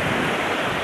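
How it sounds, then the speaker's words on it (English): Ocean waves and wind off Maui, Hawaii, heard while floating on the sea, a loud, close, continuous rush of water and wind buffeting with no voices. "just sitting floating on the ocean"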